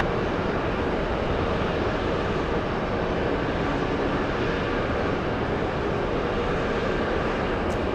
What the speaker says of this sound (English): Let's go over to the A330neo, touching down right now.